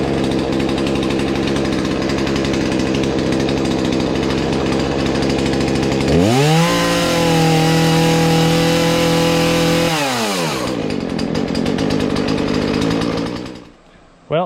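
A Husqvarna 240 chainsaw fitted with a new carburetor runs loudly and close by, with a steady rasping idle, a roughly four-second rev to high speed, then a drop back to idle before it cuts off.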